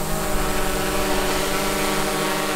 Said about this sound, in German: Jetzt kann ich mit einer Hand nur hochfliegen und die Drohne schwebt.